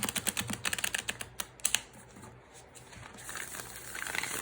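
Rapid, crisp flutter of Lumina Tarot cards being riffled and bent, a quick burst of clicks followed by softer rustling, close and quiet.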